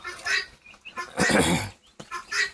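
Guinea fowl, a flock of four out in the rain, give harsh, rasping calls in three separate bursts close by, the middle one longest and loudest.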